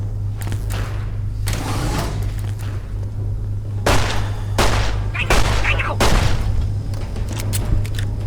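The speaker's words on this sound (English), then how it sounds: "I'm just gonna start shooting guns at them" Gunfire from 5.56 weapons in Fallout TTW, several separate loud bursts of rapid shots spaced across the stretch over a steady low hum, close and sharp.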